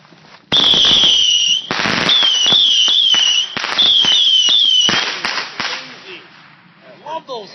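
Fireworks go off nearby in a loud burst of whistling, screeching shots and sharp bangs lasting several seconds, then fade into scattered crackles.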